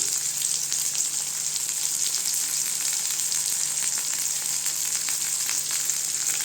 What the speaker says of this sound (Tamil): சின்ன வெங்காயம் நல்லா கலர் மாறட்டுங்க, நல்லா வதங்கணும்